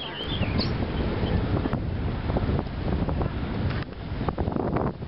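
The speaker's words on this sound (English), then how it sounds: "I'm trying to block the wind with my hand." Steady wind buffeting a microphone outdoors on a windy day while metal detecting in Barrie, Ontario, a continuous low rumble with a few brief bumps, no speech.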